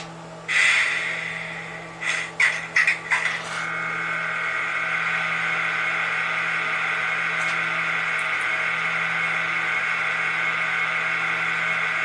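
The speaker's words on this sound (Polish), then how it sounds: "rozruch lokomotywy." Start-up of a TRIX Ee 3/3 model locomotive's sound decoder, a few sharp mechanical clanks and hisses near the start, then a steady electric hum and whine that holds to the end, with no talking.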